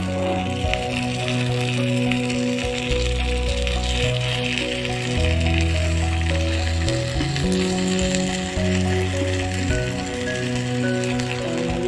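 Jackfruit paniyaram fry in a pan with a steady, close, crackling sizzle that runs unbroken throughout, with a low hum from the stove underneath and no talking.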